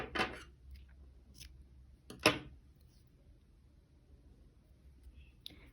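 Scissors cutting crochet yarn after a flower motif is finished, two crisp close snips separated by quiet handling, soft clicks and rustles in a near-silent room.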